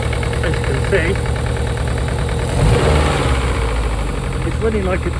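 A Rover 25 GTI with a 1.8 VVC engine and a known engine fault idles roughly, making a loud, uneven, diesel-like chugging that swells briefly partway through.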